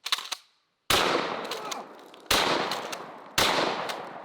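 A Browning BPS 10 gauge pump shotgun firing 3.5 inch number 4 steel shot outdoors, three loud booming blasts about a second and a half apart, each trailing off into a long echo, after a brief earlier burst of noise.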